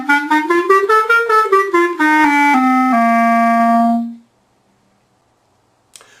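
A clarinet with a good reed plays a quick run of short tongued notes rising and falling, then a few longer held tones ending on a sustained low note that fades to silence, clear and close.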